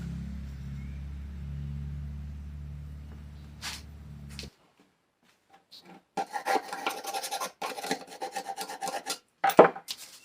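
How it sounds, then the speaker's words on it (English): Worn 220 grit sandpaper is rubbed by hand to clean up a part from a 2004 Pontiac Grand Prix HVAC blower motor, producing short uneven rasping strokes after a steady motor hum cuts off. "I just got a worn out 220 grit sandpaper"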